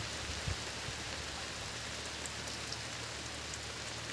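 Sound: rain falling outdoors on plants

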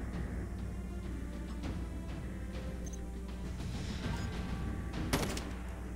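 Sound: gunfire in the video game Call of Duty Mobile

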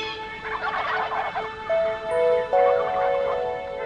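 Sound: wild turkey gobbling

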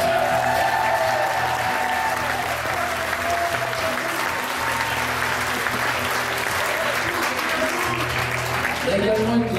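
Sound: concert audience applause for the sound engineer

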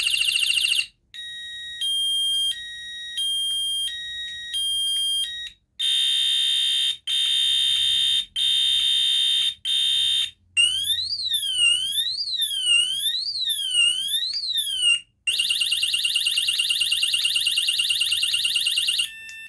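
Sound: home alarm system sounding

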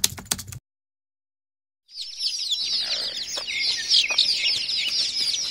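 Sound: desi chickens clucking

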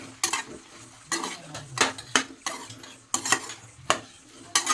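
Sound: mixing leftover rice with tamarind juice in pan

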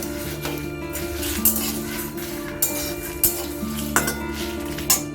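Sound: stirring coriander and cumin in pan on low flame

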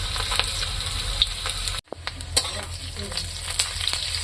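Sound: panch phoron spices sizzling in hot oil

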